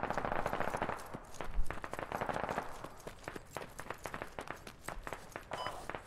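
Gunfire in the tactical shooter Squad: rapid automatic bursts and single cracks rattle at close to medium range, steady, loud and irregular throughout, with a heavier thump near the start and no talking.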